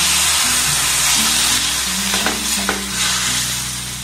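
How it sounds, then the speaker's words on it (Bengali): Bean curry spices loosened with a splash of water in a pan, stirred well: a dense, loud hiss of bubbling and sizzling over a low steady hum, with a couple of quick spoon clinks. "জলটা দিয়ে এটাকে খুব ভালোভাবে একটু নাড়াচাড়া করে নিয়েছি।"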